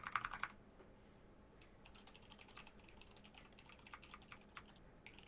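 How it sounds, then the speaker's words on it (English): Rapid, furious typing on a computer keyboard, a dense patter of close, fairly quiet key clicks running continuously, with a brief brighter burst at the very start. "the furious typing going on"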